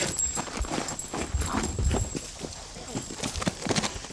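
Horses' hooves clatter in quick, uneven clip-clop beats close by on an outdoor film set, a moderately loud patter of several animals moving fast, with faint voices in the background.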